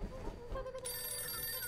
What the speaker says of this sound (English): That is a phone.